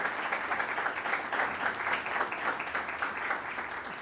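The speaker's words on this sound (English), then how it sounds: "Please welcome, with a big round of applause, Kiran Bedi, our guest on the Delhi Town Hall." Audience applause at the Delhi Town Hall event welcoming Kiran Bedi, a steady even round of clapping from a sizeable crowd, moderately loud and sustained, with no voices over it.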